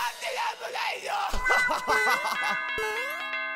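A bright ding-dong chime from Super Mario Maker 2 rings out amid jumpy game music and sound effects, the chime tones ringing clear near the end of the clip, no talking.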